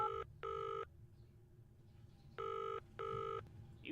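A telephone in a video game rings in two pairs of short, bright electronic trills separated by a pause, clear and moderately loud over a faint background.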